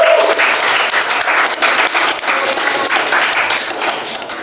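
A classroom of students applauds a student group: steady, dense clapping from many hands that stays loud and even for the whole stretch, with no voices over it.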